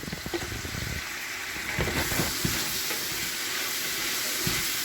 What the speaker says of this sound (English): So what I want to do is I want to just saute this a little bit and get some of the water out of the onions